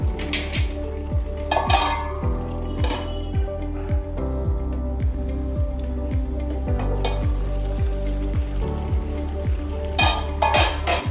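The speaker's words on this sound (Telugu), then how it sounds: "ఒకసారి కలుపుకోనండి మళ్ళీ మూత పెట్టేసి" A ridge gourd curry is stirred in a pan, with repeated metal scraping and clinks of the spoon against the pan over a soft sizzle, then a lid clatters on.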